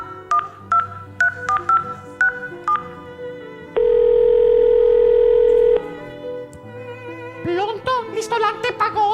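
Telephone keypad tones beep in quick succession, then a steady dial tone holds for about two seconds before a brief ring and more tonal sounds. The number being dialed is a restaurant's, and the phone sounds close and clear.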